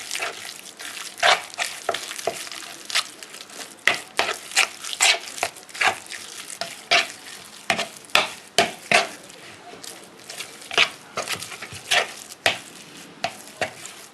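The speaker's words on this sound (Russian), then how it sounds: "Выложили и теперь перемешиваем." Minced meat gets mixed with milk-soaked bread for cutlets, giving wet, squelching slaps and stirring strokes in an irregular rhythm, close and fairly loud with brief pauses between bursts.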